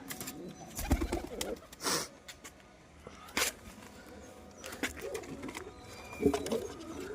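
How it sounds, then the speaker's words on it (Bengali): Pigeons in a loft give soft, low cooing calls mixed with wing flutters and scattered knocks and footsteps, all faint and intermittent against a quiet background. "কবুতর ফ্লাই দিচ্ছি দেখাচ্ছি"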